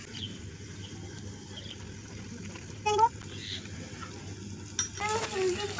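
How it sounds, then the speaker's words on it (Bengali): Pasta ingredients with cumin, green chilli and fried egg are stirred in a small frying pan, soft sizzling under light scraping, with a few brief clinks of a utensil against the pan. "এখন আমি নাড়াচাড়া করে নেব।"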